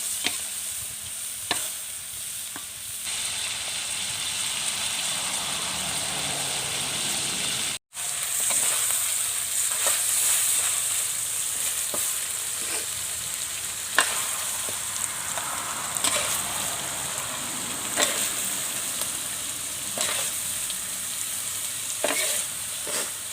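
Spicy duck with chillies and kaffir lime leaves stir-fries in a hot pan, a steady loud sizzle broken by scraping stirs of a spatula at irregular intervals, with no talking.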